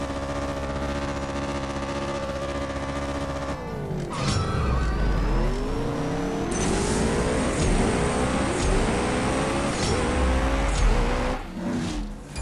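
Game race cars roar in CSR Racing 2, a Zenvo TSR-S and TS1 GT, first a steady high engine drone, then loud rising rev sweeps with gear-shift drops as they accelerate, continuous and close with no talk.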